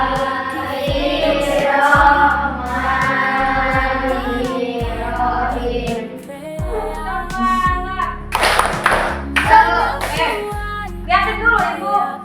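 A class of children doing a rhythmic clapping chant, tepuk semangat, groups of claps in a patterned beat alternating with sung syllables, close and lively, led by a teacher's voice.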